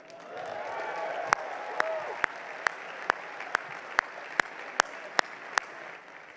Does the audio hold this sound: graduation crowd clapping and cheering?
yes